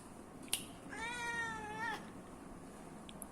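A single drawn-out cat meow, clear and fairly close, rising and falling for about a second with nothing else around it.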